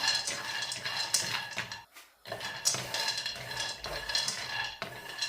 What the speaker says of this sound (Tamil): பாதாம் பருப்பையும் போட்டு வறுத்தெடுத்து கொள்ளுவோம்